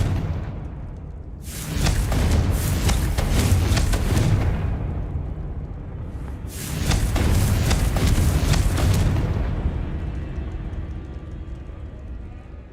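Confringo explosion spell from Hogwarts Legacy, two long roaring blasts a few seconds apart, each a loud broadband rumble with crackling debris that tails off into quiet.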